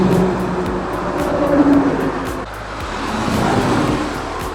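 A car driven along an empty highway, a steady loud road and engine rumble heard from inside, swelling and easing slightly as it cruises.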